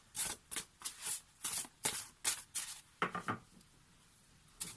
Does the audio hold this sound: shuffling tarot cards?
yes